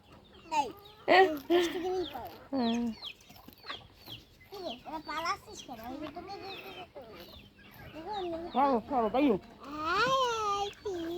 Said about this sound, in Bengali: মুরগিগুলো ঘোরাঘুরি করতেছে।